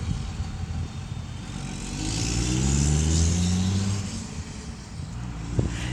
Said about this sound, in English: Pause, because there's a loud truck.